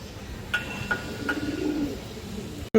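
Pigeons coo softly in a few low, rolling calls, with short bright chirps from other birds nearby, ending in a brief clatter.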